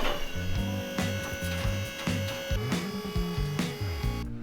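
A small electric motor on a mini rollback truck bed, tested with scrap metal temporarily clamped in place, runs in a steady humming whine with a pulsing, rhythmic pattern that shifts partway through the cycle.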